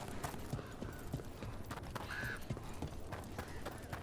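Steady clip-clop of a horse's hooves trotting at an even rhythm in Dragon Age: The Veilguard, close by, with a short high-pitched whinny partway through.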